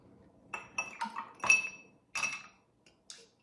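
A lime, tequila and salt cocktail is stirred in a glass, producing close, bright clinks of a spoon against the glass in several quick, uneven bursts with short pauses between them.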